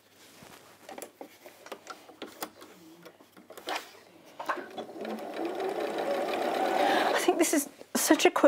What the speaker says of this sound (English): let's sew this on.